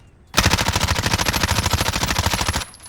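A rapid burst of MP5 submachine gun fire in a video game, loud and close, with evenly spaced shots cutting in abruptly and running for about two seconds before stopping.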